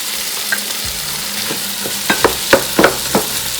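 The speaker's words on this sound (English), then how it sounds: "last of all, I'm going to put in my frozen peas and carrots." Frozen peas and carrots tumble into a pan of frying vegetarian breyani, giving a low steady sizzle broken by several sharp clicks and taps of stirring in quick succession, close and fairly loud, with no talking.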